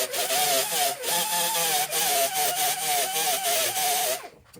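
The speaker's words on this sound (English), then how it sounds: "I'm gonna try to keep my grinder perpendicular to the surface and just go until I start to touch that nice new piece of sheet metal" An angle grinder works across a welded sheet metal car panel, a loud continuous whining grind with wavering pitch and brief dips as the disc shifts, stopping abruptly near the end.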